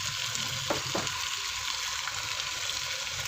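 Chicken frying in a pan with dry spices for a dhaba-style chicken gravy, a steady dense sizzle with two brief stirring scrapes near the start.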